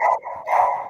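A rat terrier barks in two close, loud, yappy bursts, each a sustained harsh bark, with a short gap between them and no talking over it.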